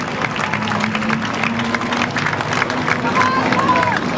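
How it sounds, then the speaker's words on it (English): Crowd applause and cheering at a speedway for a late model division winner, a broad steady wash of clapping with voices mixed in, fairly loud and continuous, with a faint tone sliding through near the end. "Let's give a big round of applause."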